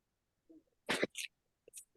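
A single sharp sneeze, close and loud, with a short breathy intake before it and a faint follow-up sound afterward.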